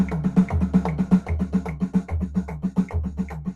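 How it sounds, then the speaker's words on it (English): Triplet drum beat and fill on a drum kit, even rolling pattern of kick, snare and tom strokes in a steady lilting rhythm, played close and moderately loud with no talking. "Here's a drum fill. This drum fill would sound like this."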